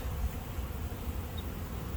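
Honey bees hum in a low, continuous drone while being moved into a new hive, a steady close buzzing with no voices.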